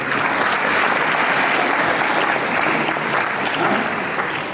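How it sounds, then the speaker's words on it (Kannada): Audience clapping at a morning motivational talk: dense, continuous applause held at a steady, loud level throughout, with no voices heard over it. "ಚಪ್ಪಾಳೆ ಚಕ್ರಿ."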